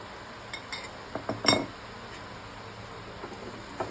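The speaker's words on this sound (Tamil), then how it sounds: "நல்லா கிண்டி விட்டுக்கலாம்" Mashed potato is stirred into a pan of sautéed masala, giving sparse metallic clinks and scrapes of a spoon against the pan, faint and intermittent with one louder knock.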